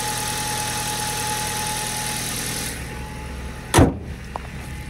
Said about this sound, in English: Motor sounds good, running well.